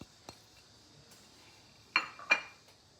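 A spoon clinks twice against a bowl while chicken marinade is mixed with garam masala, salt, meat tenderizer, ginger garlic paste and yogurt. The two sharp clinks are close together near the end, after a quiet stretch.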